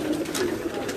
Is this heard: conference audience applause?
no